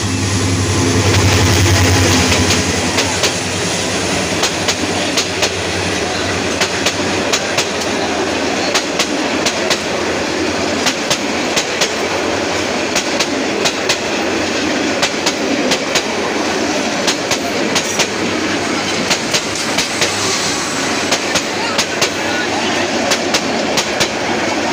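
Kishoreganj Express passenger train, number 782, in Bangladesh, running on rails with a steady loud rumble and rhythmic clickety-clack of wheels throughout, heard close up from on board.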